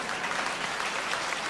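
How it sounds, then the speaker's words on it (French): Concert audience applauding a singer, a dense, even wash of many hands clapping at a distance, continuous and moderately loud throughout. "Well, come on, clap, damn it."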